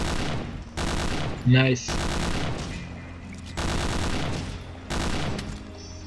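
Automatic gunfire in the Hidden & Dangerous 2 shooter game, several long machine-gun bursts in repeating rhythm, loud and close, with a brief spoken word between them.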